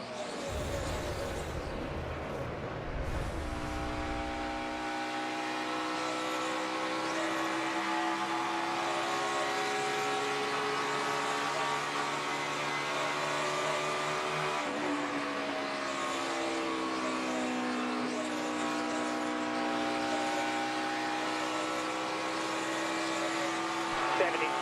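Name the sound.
onboard NASCAR race car, Austin Dillon's Coca-Cola car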